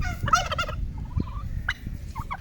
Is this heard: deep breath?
no